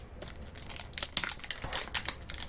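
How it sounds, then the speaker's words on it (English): Shiny clear plastic wrapping on a Cooler Master Silent Pro M2 1500W power supply box crinkles and tears as it is cut open, a close, continuous rustling with sharper crackles, no voices. "There's a big shiny little package coating around it. I'm going to go ahead and cut into that and remove it."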